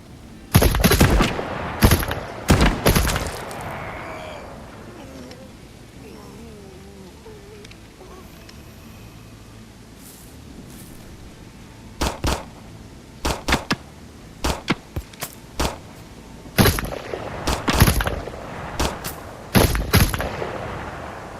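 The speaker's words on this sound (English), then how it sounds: "the bullet sounds hitting the trees, whizzing by you, watching where they come from in the muzzle flash" Gunfire in the shooter game Dreadzone, with sharp close shots and bursts in scattered clusters, quieter stretches between, and bullets snapping past and striking trees in a wooded area.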